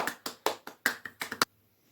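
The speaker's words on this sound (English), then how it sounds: "we're going to give our hands a nice big shake and a big clap" Hands clap in a quick irregular series of about eight sharp, close claps over a second and a half, then stop into near silence.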